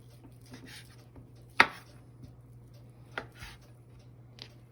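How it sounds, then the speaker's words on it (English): A knife cuts through a roast on a board, giving a few sparse, quiet knocks with one sharp, louder chop standing out against a low steady background hum. "The roast all cut up and ready to go into the meat grinder."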